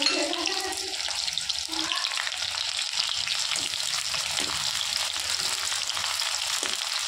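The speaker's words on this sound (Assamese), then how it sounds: "পিঁয়াজখিনি অলপ ৰঙচুৱাকৈ ভাজি ল'ম" Chopped onions frying in a pan with a steady, bright sizzle that holds evenly throughout, close and continuous, with a few faint clinks of a utensil.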